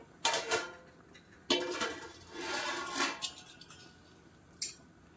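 Ingredients for mutton dum biryani stirred in a metal pot, with scraping spoon strokes and clinks in bursts and a sharp clank near the end, no talk.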